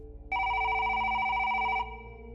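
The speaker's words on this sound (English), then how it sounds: "Suddenly, the phone rang." A telephone bell gives a single sustained electronic ring of about a second and a half, loud and alone over a low background hum, then cuts off.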